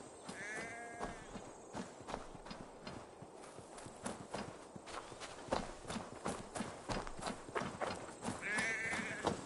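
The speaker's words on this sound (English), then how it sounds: "The sheep follows my whistle." In the game Assassin's Creed Valhalla, a sheep trots along after a player, with rapid hoof clip-clops on the ground and a couple of short bleats, one near the start and one near the end.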